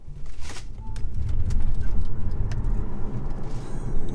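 A Tesla accelerates hard from a standstill with a full load aboard, giving a loud, steady low rumble of road and motor noise that swells over four seconds, with faint cabin rattles on top.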